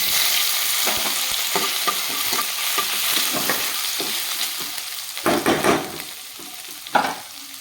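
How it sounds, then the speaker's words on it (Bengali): Panch phoron spices fry in hot oil in a pressure cooker for khichuri, a steady close sizzle broken by repeated scraping and clicking as a spoon stirs, with a few louder knocks near the end. "এখানে আমার ফোড়নটা ভাজা হয়ে গেছে"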